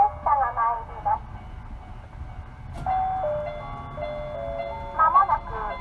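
FamilyMart-style door chime played over the platform speakers at Toyama Chiho Railway's Shitayama Station, a bright electronic melody of sustained tones sounding twice with a pause between, clear against faint station background.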